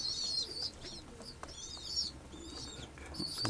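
Pigeons and young squabs in a loft, soft cooing and chirping calls with brief wing flutters, moderately faint and steady with no talk.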